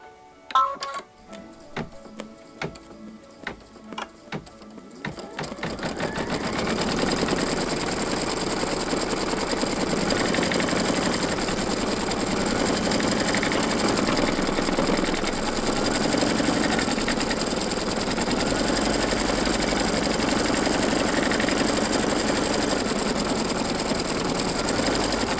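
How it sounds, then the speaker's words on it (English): A sewing machine runs a steady, fast placement stitch on a bunny pillow wrap, its dense mechanical whir holding continuously after a few brief starting clicks, close and loud. "Now we are ready to stitch the placement stitch for the bunny body"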